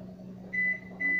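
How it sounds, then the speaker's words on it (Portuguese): A microwave oven hums steadily while melting chocolate, a low, constant drone with two short high beeps near the end. "O micro-ondas sempre me dá um barulho."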